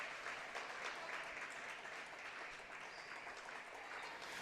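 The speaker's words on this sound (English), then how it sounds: "nice round of applause here for senior Megan Bush as she will check out of the game" A girls basketball crowd applauds a senior as she checks out of the game on senior night, a steady, even wash of clapping that holds throughout, sounding distant and fairly soft in the gym.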